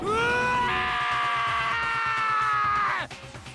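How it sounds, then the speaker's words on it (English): A long, loud scream from a character in the video game Danganronpa, held steady for about three seconds before it breaks off abruptly, and nobody talks over it. "Hey, I heard screaming!"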